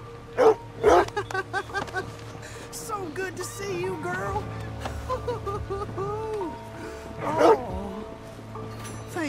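A dog in Red Dead Redemption 2 gives a burst of bow-wow barks and yips near the start, then stays quiet under steady game music before another sharp bark near the end.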